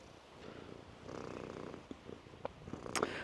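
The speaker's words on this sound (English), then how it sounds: "Purring away." A cat purrs softly and steadily up close, a low continuous rumble in a quiet outdoor setting, with a few small clicks and rustles near the end.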